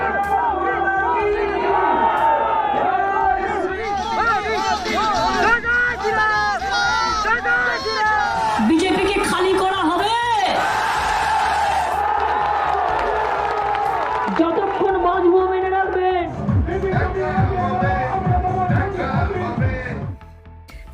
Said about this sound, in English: we see a repeat of similar campaign rallies and crowds amidst an even bigger wave of the pandemic